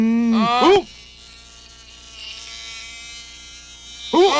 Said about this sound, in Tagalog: Isang bubuyog!